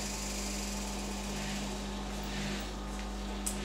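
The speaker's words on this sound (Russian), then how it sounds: "Нам не говорила, что машинка прыгает, но не настолько же." A washing machine jumping and rattling while it runs, giving a steady loud mechanical drone with low vibration throughout and one brief knock near the end.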